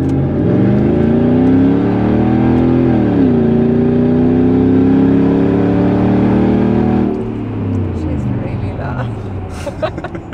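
A loud, deep straight-piped exhaust on a Lexus GX470 SUV roars as the engine revs up and holds, the pitch rising and settling before dropping to a rough idle, with voices faintly under it.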